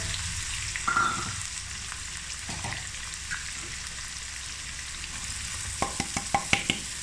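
About four medium onions, finely chopped, fry lightly in a pan, giving a soft continuous sizzle with scattered spatula scrapes and a few sharp clicks near the end, close but quiet and without voices.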